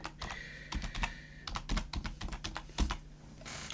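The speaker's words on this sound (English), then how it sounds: "let's type in Tricktrades." Quick, uneven clicking of keys on a computer keyboard, close and fairly quiet, with short pauses between bursts of keystrokes and no talking.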